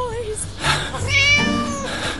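Game cat from Scary Teacher 3D lets out drawn-out meows that overlap with a speaking voice, the mewing and talk tangled together in a short burst.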